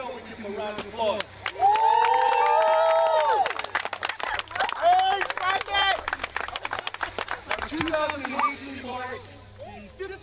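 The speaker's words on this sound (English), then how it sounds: "How about we give them a round of applause?" Outdoors at a park tennis court event, a crowd claps and cheers for kids, with excited high-pitched shouts and whoops over sharp handclaps that come in waves and trail off into scattered voices.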